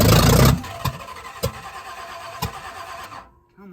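A 1965 Chevy Impala big block engine with a fresh camshaft cranks over: a loud burst of starter noise, then several sharp rhythmic cranking thumps with a squeal, ending in sudden quiet.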